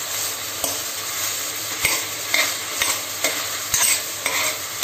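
Chopped okra and vegetables stirred and frying in oil inside a pressure cooker, a steady close sizzle with repeated scraping strokes of the spoon at irregular intervals, no talk.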